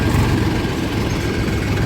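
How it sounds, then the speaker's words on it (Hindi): A farm tractor engine runs steadily in third gear at full throttle, a loud, continuous low rumble that holds constant throughout with no voices. "बिट्टू भाई का ट्रैक्टर भी आ गया है आगे से, और तीसरे गियर में जो है गद्दा लेता है"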